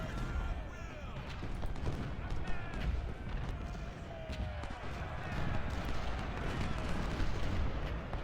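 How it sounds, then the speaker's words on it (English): Cannon fire from artillery in the Civil War strategy game Ultimate General: Civil War, a steady rumble of repeated booms and battle noise under continuous game sound with a voice talking over it. "Well, no, there's cannon fire."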